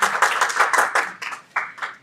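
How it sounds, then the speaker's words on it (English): An audience at a public policy event on recycling bin contamination claps for a speaker heading to the lectern: a scattered run of distinct hand claps that thins and fades over two seconds, with no voices. "huge round of applause for Claire as she makes her way to the lectern"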